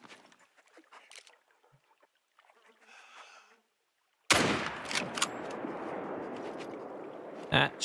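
One sharp, loud hunting rifle shot in theHunter: Call of the Wild cracks out after a quiet stretch of soft rustling and a brief voice, followed by a lingering rushing wash of ambient noise and a few fainter clicks.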